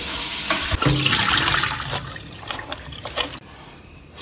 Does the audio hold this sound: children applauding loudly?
no